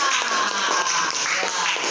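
Classroom clapping during a lesson, a run of quick hand claps and taps that blend into a bright, busy wash of noise throughout.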